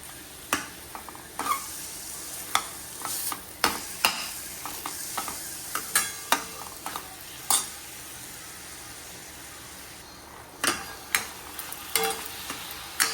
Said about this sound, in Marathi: स्टर इट वेल सो दॅट ते खूप छान असं मिक्स होईल